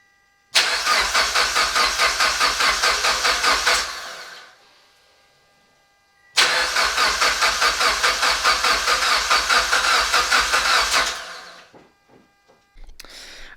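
A Mitsubishi Evo X fitted with a big turbo cranks over without starting in two long bursts of rapid, pulsing starter chug. Each lasts about four seconds and is separated by a pause of near silence.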